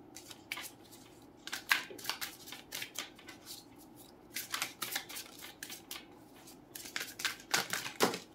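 Tarot cards shuffled and handled close by, a run of quick crisp riffles and soft slaps in irregular bursts, fairly quiet with no talking over them.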